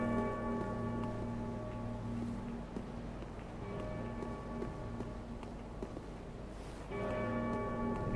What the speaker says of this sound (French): Une cloche qui sonne.